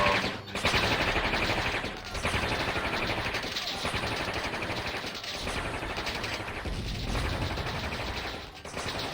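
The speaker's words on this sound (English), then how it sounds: "these tanks have a hard time shooting at an angle" Tanks trading fire in the Warzone 2100 real-time strategy game: dense, continuous rattling gunfire and crackling explosions, loud and sustained with short dips between bursts, no voices.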